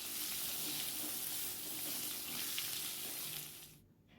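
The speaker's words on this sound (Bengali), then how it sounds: "আলুটা কিন্তু আমি লাল লাল করে ভেজে নেব" Potatoes fry in a pan until browned, giving a dense, even sizzle that holds steady and then fades sharply in the final half second.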